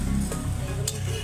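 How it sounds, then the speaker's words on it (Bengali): Mixed vegetable pakoras frying in hot oil, producing a loud, dense, continuous sizzle with faint scraping ticks, close up and without voices. "পকোড়াটা ছেড়ে দিচ্ছি"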